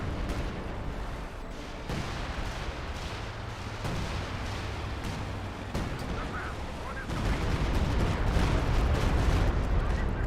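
Dense artillery and gunfire from a Company of Heroes 2 battle, armor-piercing and high-explosive rounds among them, rumbling continuously with bursts of shots and booms, growing heavier toward the end, with a voice talking over it.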